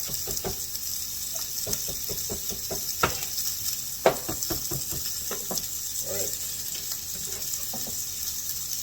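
Lobster searing in a hot pan, a soft steady sizzle broken by scattered clicks and knocks of utensils, with a sharper clatter near the middle, close and without talk.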